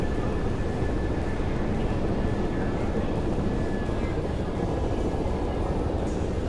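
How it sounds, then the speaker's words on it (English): A Ka-50 helicopter performs an aerobatic right barrel roll at an air show, its rotors and engines producing a loud, continuous roaring rumble with a faint steady whine on top, unbroken throughout. "And the right barrel roll is performed."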